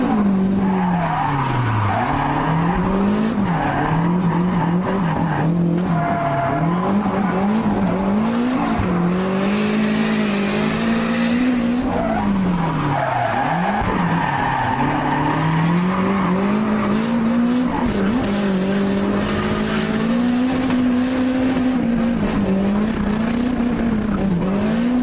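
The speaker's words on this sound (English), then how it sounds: "Hibino Tetsuya tries out the HPI Sylvia." Loud, sustained tire squeal from the HPI Sylvia drift car at a Drift Nats event, the screech wavering in pitch as it slides, with engine revving underneath throughout.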